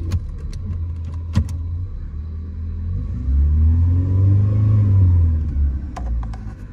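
A 1985 Mazda 929 sedan engine rumbling and rising in pitch as it accelerates from inside the car, with a few light rattles and clicks before and after.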